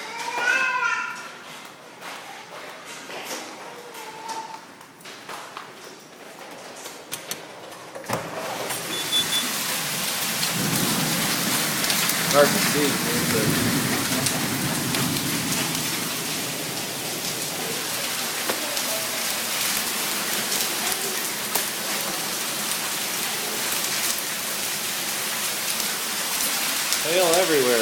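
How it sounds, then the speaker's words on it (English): Hail and rain drumming steadily outside during a thunderstorm, a dense continuous roar heard from indoors, with a baby's voice and brief adult talk over the top early on. "There's lots of hail happening outside."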